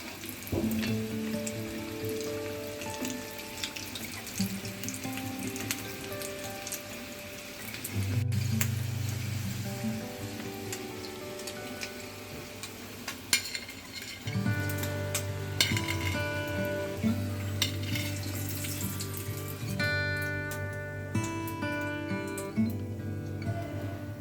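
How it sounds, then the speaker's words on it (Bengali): Batter of rice flour and gram flour with a little salt fries in hot oil as a snack, a steady close sizzle with bursts of bubbling and occasional clinks of a utensil against the pan. "এখানে এটা আমি তুলে ভাজছি"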